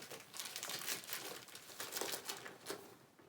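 Tissue paper crinkling and rustling as it is packed into a medium Celine Triomphe handbag along with small items, a steady close-up crackle lasting a few seconds with brighter bursts, no voices.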